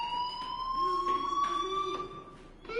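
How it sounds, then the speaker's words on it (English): A fire alarm blares in the video game Life is Strange: a loud, steady electronic tone with layered harmonics that holds throughout. "do you hear that fire alarm?"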